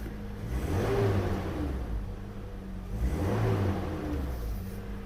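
A 2019 Toyota Land Cruiser Prado 150 engine running, a low steady rumble that rises in two slow rev swells, close and moderately loud, with no speech.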